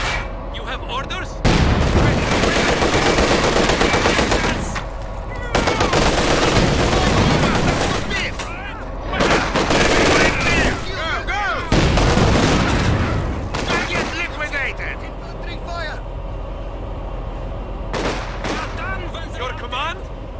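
Heavy machine gun fire in a war video game comes in repeated loud, dense bursts, with shouted voice commands over the gunfire.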